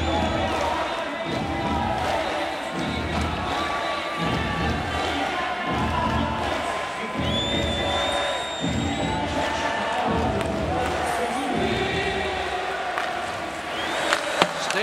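A huge outdoor hockey crowd at Edmonton's Commonwealth Stadium roars after a Staios goal in the 2003 Heritage Classic, Oilers against Canadiens. The cheering is loud and sustained, with an announcer talking over it.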